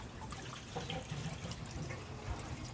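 Water seeps and trickles from a leaking water storage tank, a faint continuous watery dribble with small splashes, heard up close with no speech.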